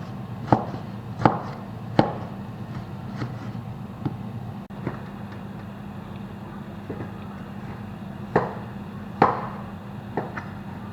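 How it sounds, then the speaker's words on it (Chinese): A knife mincing meat and pickled vegetables on a board gives about nine sharp, separate chops at an uneven pace, close and fairly quiet over a low background hum. "准备给它切末"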